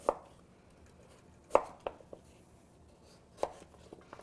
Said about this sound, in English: And what I want to do is cut this into wedges.